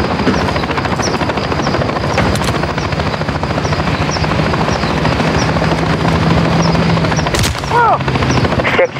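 Military helicopters in the Modern Warfare III shooter, a loud close rotor chop pulsing rapidly and steadily throughout, with distant gunfire bursts and a radio voice talking over it.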